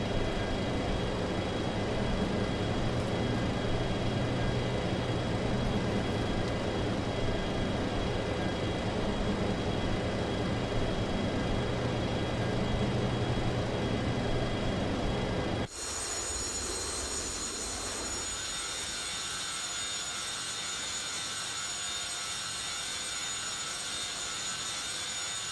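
Three JT8D jet engines on a Boeing 727 in the X-Plane 10 flight simulator keep up a loud, steady roar that drops abruptly to a thinner, whining hum partway through.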